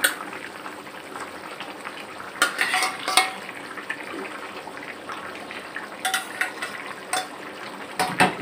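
Fish and tomato fry in a pan with a constant sizzle, punctuated by scattered clinks and scrapes of a utensil stirring against the metal, close and moderately loud.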